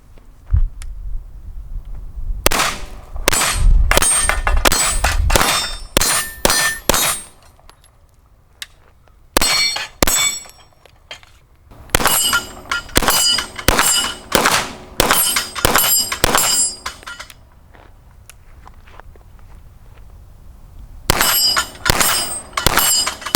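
Sig Sauer P320 M17 pistol with a Leupold DeltaPoint Pro red dot fired at small steel targets outdoors, loud close shots in quick strings and pauses, each followed by a ringing metallic clang from the steel.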